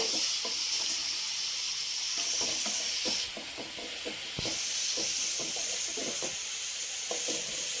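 Chopped vegetables, including beans, fry in a hot pan for mushroom fried rice, giving a continuous bright sizzle with frequent clicking stirs and scrapes close by, with no speech.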